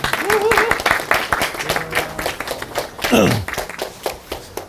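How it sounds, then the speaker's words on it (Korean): Audience applause at a physical education teachers' gala in Korea, welcoming a presenter to the stage: a burst of clapping from a room full of people, mixed with voices and a few thumps. "박수로 맞아주세요."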